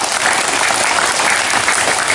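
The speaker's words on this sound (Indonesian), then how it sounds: "Tepuk tangan semuanya." Schoolchildren at an elementary school launching event applaud together, a dense, steady burst of clapping that stays loud and even throughout without a break.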